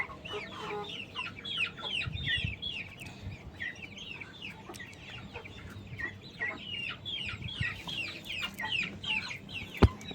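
Chickens cluck and chirp close by in a continuous busy chorus of short, high calls, with occasional soft knocks and a sharp thud near the end.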